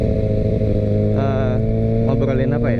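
A second-hand big motorcycle being ridden on the way to a repair shop, its engine droning steadily and loudly throughout with shifting pitch, while someone talks over it.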